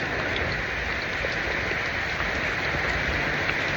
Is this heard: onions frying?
no